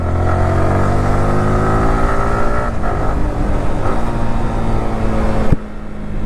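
A 150 cc motorcycle with an aggressive riding posture is ridden. Its engine gives a loud, close, continuous drone that holds steady for several seconds, with a slight shift near the end.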